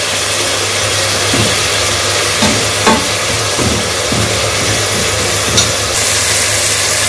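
Mint leaves frying and being stirred in a pot while cooking chicken biryani, a steady loud sizzle with scraping stirs throughout, no talking.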